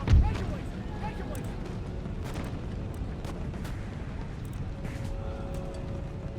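Cannon artillery fire in the battle game Empire Total War: one deep boom right at the start, then a busy battlefield din with scattered distant cracks and pops.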